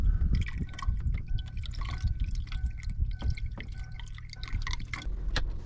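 Water is poured into a leaking car radiator out in the desert, with close, irregular gurgling, splashing and dripping as it fills, and no voices.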